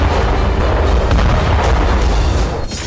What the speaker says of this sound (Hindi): धमाके